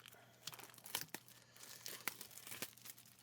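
Scissors snip open the packaging of a Digimon trading card booster box, producing a few quiet, separate cuts with crinkling and tearing of plastic wrap, close by with no speech.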